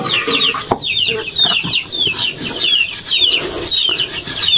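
Chickens cluck near the house in the morning, a busy run of repeated close clucks and squawks with some rustling in between.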